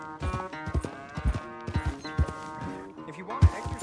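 Horse hooves clip-clop steadily in Red Dead Redemption 2, a rhythmic close trotting beat with someone talking over it.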